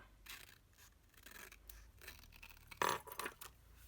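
Long scissors snipping through a mini notebook's cover: a few short, crisp cuts and rustles, with a louder burst of slicing near the end, close up and fairly quiet, no talking.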